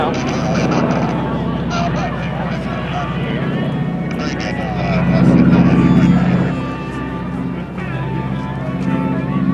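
Droning propeller engine of a T-6 SNJ aircraft flying at an airshow, rising and swelling as it passes, heard under a public-address announcer talking.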